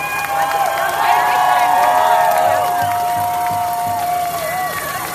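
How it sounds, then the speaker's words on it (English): A rally crowd at the February 2022 Freedom Rally in Fredericton, New Brunswick, cheers and applauds steadily for several seconds, with shouts and a high whistle-like tone rising over the broad crowd noise. "They deserve a hand of applause or a hug."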